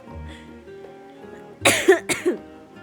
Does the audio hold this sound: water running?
no